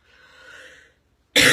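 A person coughs: a faint throat sound first, then after a short pause one sharp, loud, close cough.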